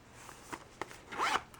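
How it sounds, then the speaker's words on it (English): A zipper on an Ipsy glam bag with an airplane-shaped pull is opened in a few quick, close, soft rasping strokes, ending with a brighter zip, with no talking. "It has a little airplane for a zipper and it says escape."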